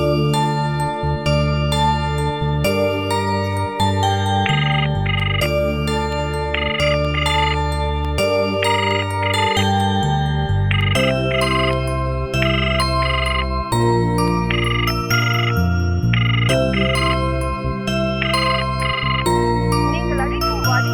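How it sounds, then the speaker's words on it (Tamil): A musical ringback tune plays on a phone call that goes unanswered in a Tamil TV serial. The melodic tones repeat steadily and loudly for about twenty seconds, and no one speaks over them. "எங்க ரிங் போதா, ஆனா எடுக்க மாட்டேங்கிறாங்க"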